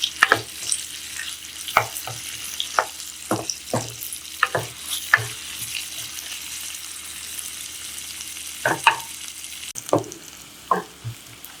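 Onions sautéing with a little salt in a pan for a green pea kurma gravy: a steady low sizzle broken by repeated sharp spatula taps and scrapes as they are stirred, close up, with no talking.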